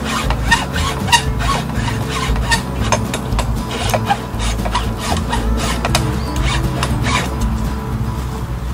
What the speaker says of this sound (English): take the hacksaw here